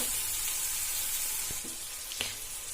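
Chopped tomatoes frying in a pan of hot oil give a steady, even sizzle throughout, with a couple of brief stirring knocks near the end, close and continuous.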